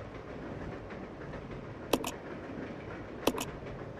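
Resident Evil 0 train in motion: a constant low rolling rumble broken by two crisp metallic clacks about a second and a half apart, with no voices.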